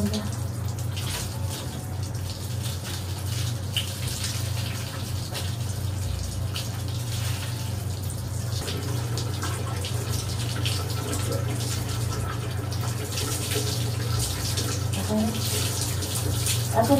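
Water poured and running during a bath, a continuous gushing splash like a tap or bucket stream, steady and close for the whole stretch, with faint voices occasionally underneath.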